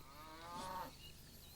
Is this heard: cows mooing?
yes